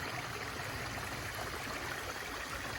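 A river rushes below steep drops along a mountain bike trail, a steady broadband wash of flowing water with no breaks, moderately faint and continuous throughout.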